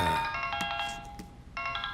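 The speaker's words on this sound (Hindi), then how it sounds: "किसका फोन है?" An electronic phone ringtone plays a bright, tonal melody in two bursts separated by a short gap, loud and close with no talking over it.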